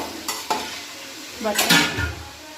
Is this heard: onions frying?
yes